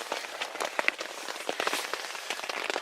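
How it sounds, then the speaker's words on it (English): Rain begins falling at a campsite, a steady patter of drops striking surfaces close by with scattered sharper taps. No one speaks. "I made it to camp and it's just starting to rain"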